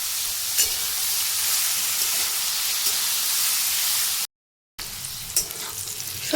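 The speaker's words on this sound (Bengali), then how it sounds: "সামান্য নুন দিয়ে আমি এখন সবজিগুলোকে ভেজে নেব।" Chopped vegetables fry in oil in a kadai, a steady crackling sizzle with occasional stirring scrapes, briefly cutting out before the sizzle resumes.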